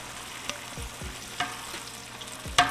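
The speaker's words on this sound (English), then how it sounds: "You can hear that sizzle right off the bat." Vegetables sizzling in a hot pot for duck gumbo, a steady crackling hiss broken by a few sharp clinks of a utensil against metal.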